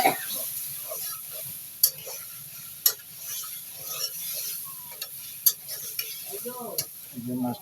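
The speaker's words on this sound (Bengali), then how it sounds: "আমি মাছটি কষাবো।" Fish being braised and stir-fried in a pan, giving a soft sizzle with scattered scraping and clicking stirring strokes under low background noise.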